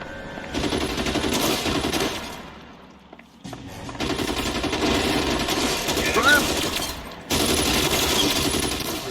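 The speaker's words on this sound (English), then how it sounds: "Who the hell is shooting?" Rapid automatic gunfire in a shootout in the video game L.A. Noire, dense sustained bursts broken by short pauses, loud and close.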